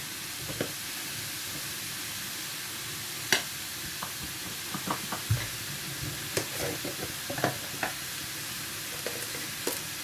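Spices with chili powder sizzle steadily in a hot pan while a banana flower curry is cooked, a constant bright frying hiss broken by scattered clicks and scrapes of stirring, with no talk.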